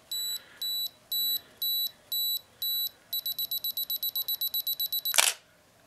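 A Canon EOS 60D self-timer beeping: six evenly spaced high beeps, then a rapid run of faster beeps, ending in a brief shutter burst, close and clear in a quiet room.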